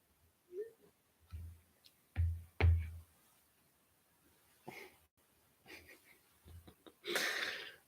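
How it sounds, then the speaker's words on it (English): A dog snoring faintly in the background with scattered wheezy, snorting breaths and low rumbles at irregular intervals between quiet stretches. "my dog, is snoring behind me"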